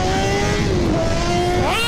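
A BMW S1000RR sport motorcycle engine accelerates hard, its whining tone climbing steadily in pitch, then jumping sharply higher near the end over about two seconds, with no talk over it.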